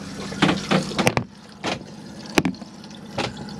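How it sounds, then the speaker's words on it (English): A Chausson Premium 778 motorhome toilet flushes at the press of a button, with bursts of rushing water and pump noise, sharp clicks and clunks in between, close by. "you can press this blue button here which will flush the toilet"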